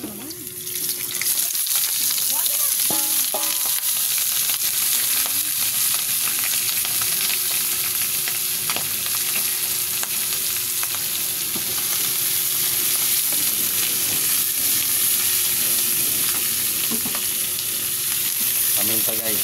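Mussels fry in a pan with a loud, steady sizzle that runs continuously, close up, with occasional stirring scrapes and clinks over the hiss.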